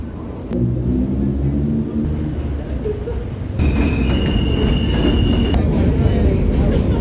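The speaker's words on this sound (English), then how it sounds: "That's my train." A train rumbles into a New York City station loudly nearby, wheels grinding and squealing on the rails, with a sharp high brake screech partway through and faint voices in the background.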